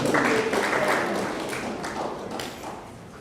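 Crowd applause for a middle school baseball team at a media day, a steady broadband clatter of clapping that starts strong and slowly fades over a few seconds.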